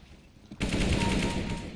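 Rapid automatic gunfire in a shooter video game bursts in abruptly and rattles continuously, loud and close, with no talking over it.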